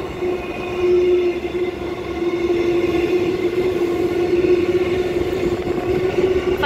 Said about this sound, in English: Now about to pass platform 2, we have the first news train.